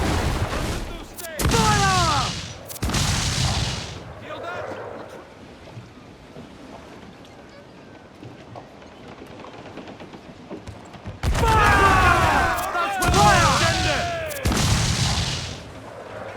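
Naval cannon fire in the Assassin's Creed 4 Black Flag video game, booming broadside volleys in two clustered bursts with shouting crew voices, wind and sea noise between them.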